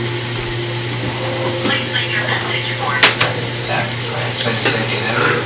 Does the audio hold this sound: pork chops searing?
yes